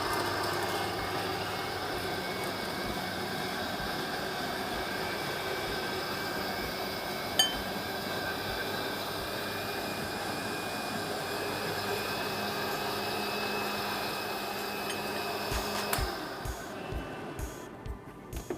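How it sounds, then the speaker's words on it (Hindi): A blender whirs steadily on sweetened watermelon for a watermelon halwa, a continuous loud drone that winds down near the end. "अब मैं इसको प्रेडोमिनेटली ब्लेंड करना है"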